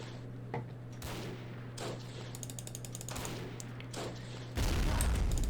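Gunfire from the World War I desert cavalry battle in Men of War, Battle of Empires mod: sharp separated shots and short rattling bursts at a distance, followed by a louder, closer burst at the end.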